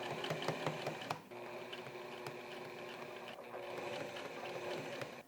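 A sewing machine stitches a shirt collar with a steady, close mechanical whir and rapid needle clatter, pausing briefly before running on evenly.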